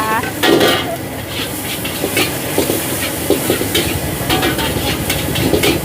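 Pad see ew noodles with pork stir-fried over high heat in a wok at a busy Thai food shop: loud continuous sizzling with metallic scraping and clanking of the spatula, background chatter underneath.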